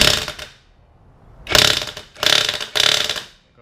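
A hand wrench works on the tightly torqued rear wheel nut of a Ducati Panigale V4S, giving one short burst and then three loud, close bursts of ratcheting metallic clicking.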